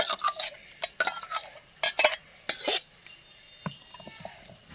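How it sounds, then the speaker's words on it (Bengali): Homemade tomato sauce poured and worked through a large sieve, with sharp metal scrapes and clinks of a utensil against the mesh in irregular bursts, quieter toward the end. "এই দেখুন, আবার আমি ঢেলে নিচ্ছি।"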